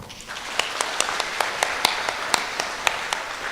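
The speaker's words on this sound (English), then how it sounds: "A round of applause, come on." Sparse, light clapping from a small group, individual claps spaced unevenly over a soft background hiss.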